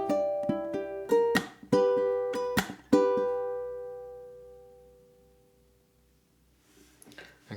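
Ukulele plays the first two bars of a theme: a few plucked notes and sharp strummed hits, then a long ringing decay into near silence before faint movement at the end.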